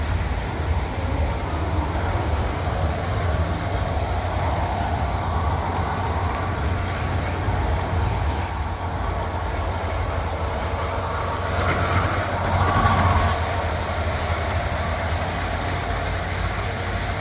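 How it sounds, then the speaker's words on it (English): Model trains run on a layout at the Indio Date Festival. Their steady rolling rumble and faint clatter go on under a constant background hum, with no talk, and swell gently near the end. "Because we got trains running."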